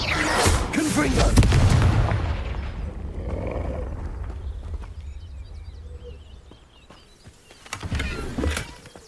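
A Confringo explosion spell erupts in Hogwarts Legacy with a loud, low booming blast that fades into a rumbling tail, followed by a second, smaller burst near the end.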